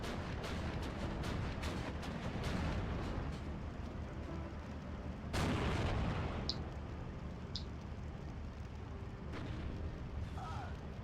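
Distant booms and gunfire rumble through a Steel Division 2 tank battle. A dense stretch of shots comes early, then a heavier blast follows midway, all fairly faint beneath a constant battle din.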